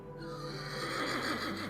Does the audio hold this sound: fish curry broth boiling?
no